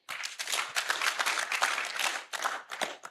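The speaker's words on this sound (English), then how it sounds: "Can we clap for him again?" Audience clapping at a church workshop, a short burst of many hands applauding that swells, briefly dips, then carries on in uneven waves before fading.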